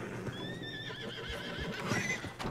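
A horse in Red Dead Redemption 2 gives a wavering, drawn-out whinny up close, with hoof clip-clops and game ambience underneath.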